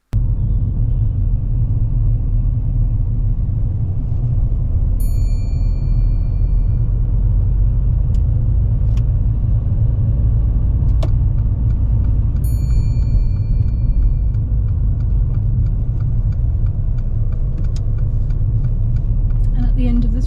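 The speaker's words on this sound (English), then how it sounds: "As we're driving down this road, Robert's speed suddenly slows down" A car rolls steadily along a road during a practical driving test, a constant low engine and tyre rumble filling the cabin, with a few faint clicks and no talk.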